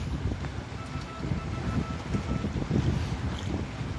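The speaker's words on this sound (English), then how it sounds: "my silent electric outboard that makes no noise other than the lower unit grinding away and the sound of the waves splashing" A low, grinding hum from an electric outboard motor's lower unit churns beneath waves sloshing and splashing against a boat hull, with gusts of wind buffeting the microphone.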